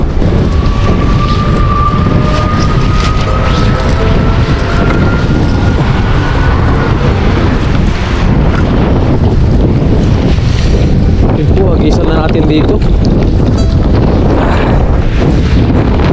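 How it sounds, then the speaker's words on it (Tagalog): Strong wind roars and buffets the microphone continuously, loud and close, with a brief spoken remark near the start. "May kalakasan nga lang po yung hangin."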